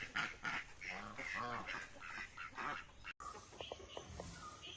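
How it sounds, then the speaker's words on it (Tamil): A duckling's high, rapid quacking peeps repeat in quick bursts near the end, after a stretch of overlapping voices and squawks. "இந்த பேக் பேக்குன்னு கத்துறது தான் சின்ன வாத்து"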